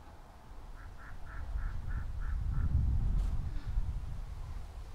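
A run of seven quick duck quacks, evenly spaced, over a low rumbling background of wind and outdoor noise.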